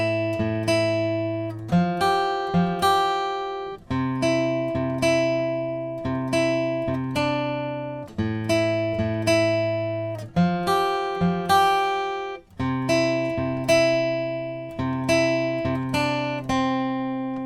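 Guitar plays a song's pre-chorus slowly, ringing chords strummed in a steady down-up pattern with sustained harmonics, each chord decaying before the next change, played alone and close.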